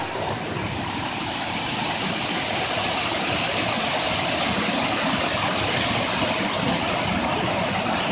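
A stream swollen by rain rushes in a loud, continuous wash that builds slightly and then holds steady, close by on a summit hike, with no talking.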